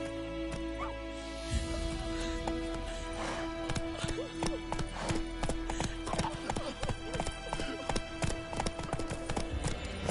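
Roach the horse galloping in The Witcher 3, rhythmic hoof clip-clops starting after a brief lull and continuing steadily, moderately close over faint ambient background.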